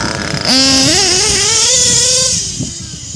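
Modded nitro RC truck with a tuned LRP .32 engine screaming loud and close, its pitch climbing steadily as it revs hard, then dropping back to a steady idle.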